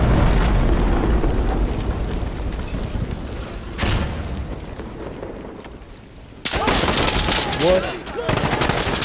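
Rapid automatic gunfire and sharp shots crackle during a round of the online shooter Insurgency: Sandstorm, dense and loud at first, then dropping to a quieter stretch before another burst of firing, with a player briefly speaking.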